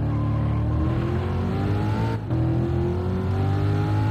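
A race car engine roars steadily at Laguna Seca in Gran Turismo during an online time trial, close and loud, with rising revs, a brief drop at a gear change, then climbing again.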